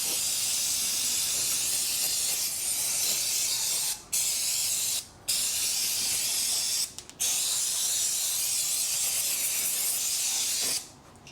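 Brake and clutch cleaner sprayed onto a rear drum brake of a 2009 BMW 1 Series Coupe 2.0 diesel, a loud, close, continuous aerosol hiss broken by several brief pauses between bursts.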